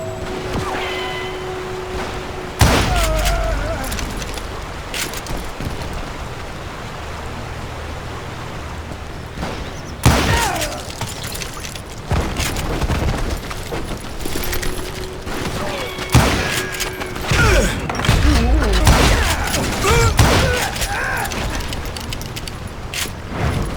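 Gunfire in a shootout in the Western video game Call of Juarez Gunslinger, with repeated sharp shots and bursts scattered over a continuous noisy background of rough country.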